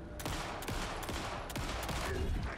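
Repeated gunshots in the Alan Wake 2 video game, several sharp bursts spread across a couple of seconds over a loud, dense combat background, with no talking.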